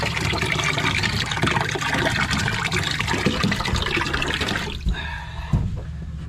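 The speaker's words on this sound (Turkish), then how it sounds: "Elimizde temiz suyuyla balıklarımızı ayıkladık. Ve duruluyoruz şu anda." Cleaned Black Sea horse mackerel being rinsed under clean running water, a steady close splashing gush that thins toward the end, with no voices.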